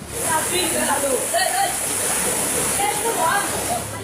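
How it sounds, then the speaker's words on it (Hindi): Floodwater surging and rushing during a Bihar flood, a dense, steady roar of churning water filling the whole stretch without pause. "पानी का उफान ऐसा है मानो सब कुछ अपने साथ बहा कर ले जाना चाहता है।"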